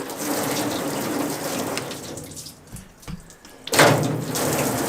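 Rinse water spraying onto and sheeting off a ceramic-coated car panel, a loud rushing hiss that drops away briefly and then surges back strongly, with a few knocks in between.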